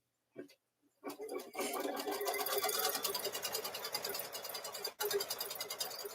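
Sewing machine running a placement stitch on a quilt block, starting after a brief pause and then whirring steadily with a rapid needle rhythm, one short stop near the end, with a voice heard briefly at the start.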